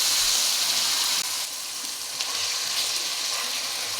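Ginger-garlic paste and onions frying in oil under a lid for a bottle gourd chicken curry, giving a steady, close, continuous sizzling hiss with a slight dip partway through.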